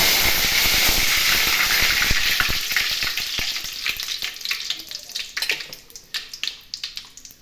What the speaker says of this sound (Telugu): ఇప్పుడు కొంచెం కరివేపాకు,